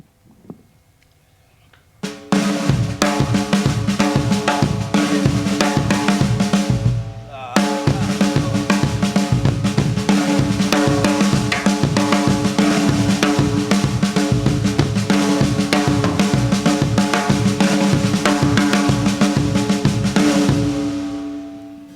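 Loud drumming in a New Orleans second line rhythm, rolling on four, beginning after a short quiet lead-in and running steadily with a brief pause before a dense groove that continues to the end.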